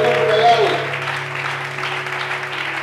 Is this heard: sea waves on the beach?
no